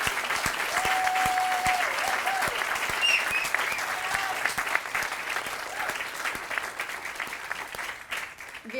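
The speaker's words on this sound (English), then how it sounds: "Let's give Mr. Rollins another round of applause." Dense, steady applause from an audience at a campus groundbreaking ceremony for a business school expansion, honoring Mr. Rollins. The clapping stays full and close for most of the stretch before thinning and tapering off at the end.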